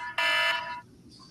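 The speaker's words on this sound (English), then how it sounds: "There's my alarm there." A home alarm goes off with a loud, steady electronic beep that holds for about half a second and then cuts away, leaving a quiet room murmur.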